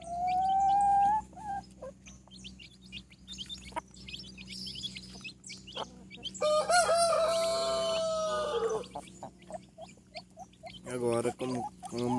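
Chickens and small chicks in a chick brooder pen, gathering to feed: high peeping chirps and clucks, with a louder burst of overlapping calls midway and rhythmic clucking near the end, close by.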